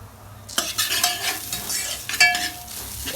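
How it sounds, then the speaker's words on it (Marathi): Onion fries in oil in a pan for a Vidarbha-style chicken curry paste, stirred with a spoon. Scraping strokes start abruptly and repeat unevenly over a gentle sizzle, close and fairly loud, with no talk. "कांदा चांगला भाजलाय, कांदा काढून घेऊ."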